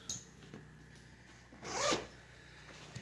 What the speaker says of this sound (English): I can just very, very easily reach in, grab that main zipper